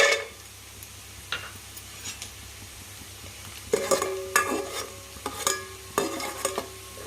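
Cashews fry in a mix of ghee and oil with a low, steady sizzle. Several louder scrapes and clinks of a spoon against the pan come in bursts, and no one speaks.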